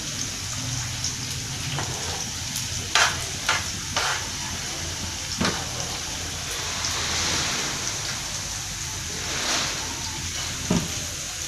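Green chillies frying in very hot oil for mash ki daal, a steady crackling sizzle throughout with occasional sharper pops and spatters, close and moderately loud, no talking.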